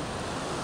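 Sea waves wash steadily onto Shirgaon beach in Palghar, a dense broadband roar of surf with wind, continuous and close, with no voices.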